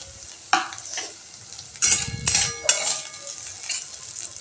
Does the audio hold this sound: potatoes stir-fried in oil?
yes